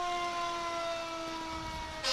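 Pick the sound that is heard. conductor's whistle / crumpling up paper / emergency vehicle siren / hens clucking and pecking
emergency vehicle siren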